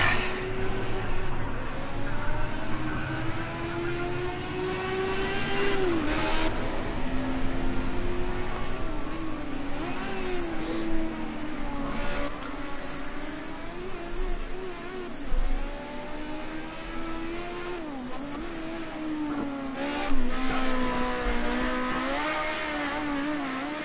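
A Ford Sierra Cosworth Group A touring car laps Zolder in a sim racing game, its engine droning steadily with rising and falling revs through gear changes and corners, plus occasional tire squeal, loud and continuous with no talk.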